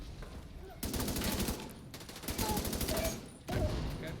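An unusual gun fires in the video game The Division 2, three dense bursts of rapid gunfire separated by short gaps, loud and close.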